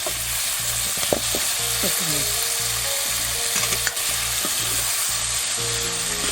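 Tomato and masala sizzle steadily in a pan of frying rajma while a spoon stirs and scrapes through it, with close, continuous crackling and occasional utensil knocks.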